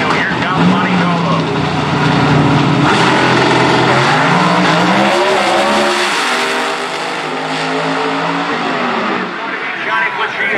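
Drag racing cars in a Pro Nitrous and Pro Boost class race at Darlington Dragway roar loudly down the strip, engines revving and droning steadily with rising and shifting pitch, while an announcer talks over the noise.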